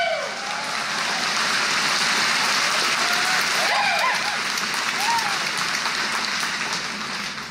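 Crowd applauding during a roadster horse demonstration at the 2024 Mid-America Trotting Sale, a broad, steady wash of clapping from many people, sustained and even, with a few voices rising briefly above it.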